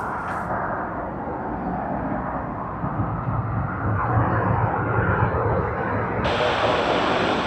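A Qantas airliner on approach to land at Sydney Airport gives a continuous, fairly loud jet engine roar that swells slightly toward the end, with no speech.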